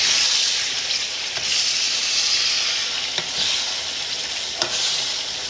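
Chicken sizzling and being stirred in hot olive oil with garlic and onions, a steady close hiss of frying with a few brief scrapes of the spoon against the pan.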